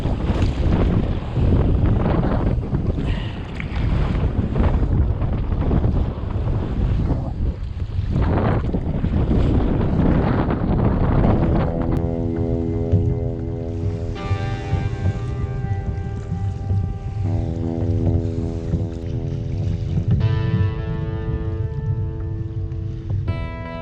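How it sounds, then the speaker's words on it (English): At sea during kayak fishing, wind roars and buffets the microphone in a loud, continuous rush with some lapping water underneath, easing slightly toward the end. "Starting to get quite cold too, that wind."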